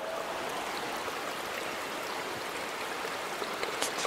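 Water being pumped out in the horror video game Lifeling, a steady rushing, gushing wash like a stream that fills the whole moment at close range, with a few brighter splashy spikes near the end.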